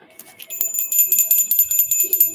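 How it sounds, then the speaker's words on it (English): Small hand bells jingle in quick repeated shakes, bright and close, ringing in a steady pulsing rhythm with a faint voice underneath. "These little bells come in handy."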